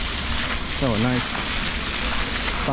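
A decorative fountain in a warm outdoor spot in the Hinnom Valley, steady broadband splashing and rushing water close by, continuous and fairly loud, with a voice speaking briefly over it.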